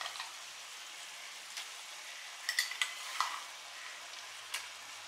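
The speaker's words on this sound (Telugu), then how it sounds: "అల్లం వెల్లుల్లి పేస్ట్ కూడా ఒక 2 నిమిషాలు మంచిగా వేగనిద్దామండి." Ginger garlic paste fries in a pan for a beef biryani, giving a steady soft sizzle with a few sharper crackles and light stirring clicks, moderately faint, with no talking.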